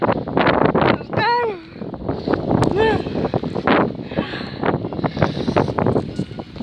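Strong gusts on an exposed mountainside buffet the microphone, a loud steady roar running the whole way under nearly continuous talk.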